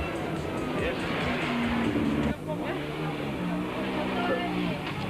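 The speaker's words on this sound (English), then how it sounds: "car number 1 is sent on its way" A rally car, Enzo's Conquest, pulls away from the start line at the 1993 NGK Swartland Rally, its engine revving loud and rising with a short drop midway as it shifts, under crowd and announcer chatter.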